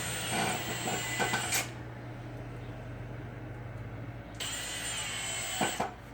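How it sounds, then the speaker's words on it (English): A power driver drives two screws into a wooden box: two whirring bursts with a quiet pause between them, heard close up without talk. "Alright, so we'll go ahead and we'll get 2 screws started in there."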